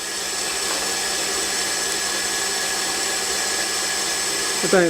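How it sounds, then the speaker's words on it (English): A knife blade has its flats ground on a large-diameter contact wheel, giving a steady, close, high-pitched whirring grind that holds evenly throughout. "the object is to grind the flats on this large diameter contact wheel down to about"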